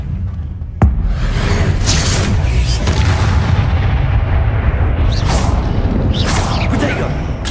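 Confringo spell explosions in the video game Hogwarts Legacy: a sharp, heavy blast is followed by sustained rumbling booms and crackling bursts, with a voice speaking at moments.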